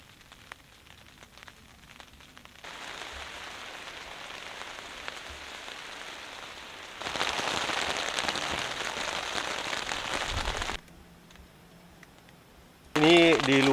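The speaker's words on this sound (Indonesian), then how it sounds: "Ini hujannya lagi deras di luar." Heavy rain drums on a tent while camping, a dense hiss that grows louder in stretches and then drops back, with a voice talking briefly at the end.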